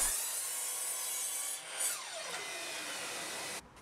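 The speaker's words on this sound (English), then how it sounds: "I cut down some decking boards to the widths of the steps" Decking boards are cut to width for shepherd's hut steps, a continuous loud rasping saw noise that holds steady with a brief dip in the middle before stopping abruptly.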